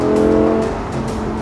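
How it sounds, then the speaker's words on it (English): The longitudinally mounted mid-engine of a 2013 Lamborghini Gallardo runs at a steady, loud, close-up drone with a strong low harmonic hum and no talking over it. "It's longitudinally set, and it's like in the middle of the car, right behind me here, as if you can't hear it."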